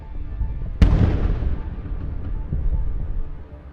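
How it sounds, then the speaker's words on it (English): A single sharp blast of artillery fire striking enemy forces near a stalled Russian convoy, a loud sudden boom followed by a long decaying rumble over steady low background noise. "Using artillery units, they strike enemy forces."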